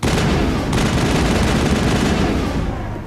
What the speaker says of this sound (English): followed by several rounds of gunfire